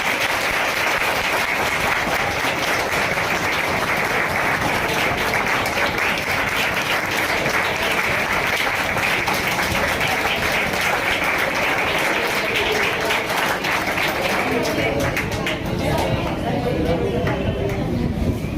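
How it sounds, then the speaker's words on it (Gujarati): Sustained, loud applause from a seminar audience at a career guidance event, welcoming a guest with flowers; dense steady clapping continues unbroken for the whole stretch with no talk over it. "જ્યારે એમનું સ્વાગત થાય ત્યારે તાળીઓ પડવી જોઈએ."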